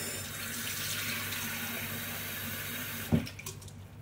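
Water runs from a kitchen tap in a steady, soft stream in front of a chopping board, then a brief clatter near the end as the flow shifts.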